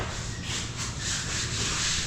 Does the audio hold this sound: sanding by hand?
yes